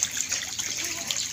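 Strong, steady flow of clear water gushing and splashing nearby in summer, a continuous bright rushing wash with no talk.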